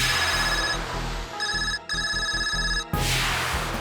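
An electronic phone ringtone plays loudly in a repeating tonal pattern, cutting off briefly before resuming, with no talking over it.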